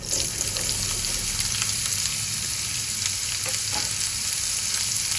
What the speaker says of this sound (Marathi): आपण आता फोडणीवर लाल भोपळा घालूया.